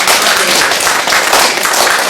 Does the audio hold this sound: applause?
yes